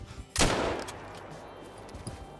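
A single rifle shot in the hunting video game Call of the Wild, a sudden sharp blast followed by a fading rumble, moderately loud over quiet game ambience.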